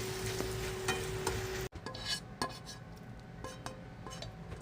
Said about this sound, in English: we're going to transfer this over to the slow cooker